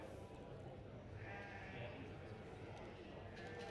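Dutch Spotted sheep bleating in the show ring at an agricultural show, with mid-range calls mixed into steady crowd chatter and a commentator talking over the din.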